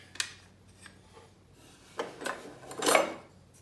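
Wooden kitchen utensils, a spatula and a wooden spoon, clack and rub against each other in a few brief, close knocks and scrapes, with a longer rustling handling sound near the end.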